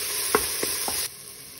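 Green paste for chicken pulao frying in a pan, a close sizzle with three quick scraping stirs before the hiss drops away.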